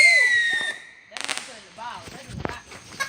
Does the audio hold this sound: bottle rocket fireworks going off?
yes